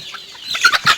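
Chickens clucking close by, a few short bursts of clucks getting louder toward the end, with no talking.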